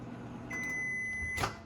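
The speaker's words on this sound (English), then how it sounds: "Melting the butter in 10-second increments just because I don't want it to pop in the microwave." A microwave oven melting butter in short bursts hums steadily with a thin high tone for about a second, then ends with a click as it stops.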